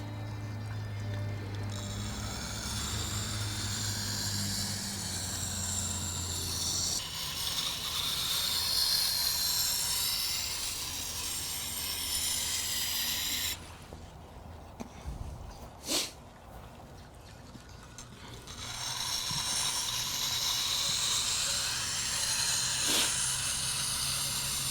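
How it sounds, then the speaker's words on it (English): A Shastar blade is honed on a stone and stropped on a spinning leather honing wheel, giving a continuous hissing grind that drops away briefly midway and then resumes, with a few sharp taps in between. "now I'm gonna put a more fine edge on it with the stone, and then strop it with the leather honing wheel"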